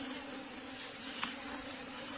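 A steady, dense insect buzz of giant wasps drones loudly and continuously throughout, with no break in the hum.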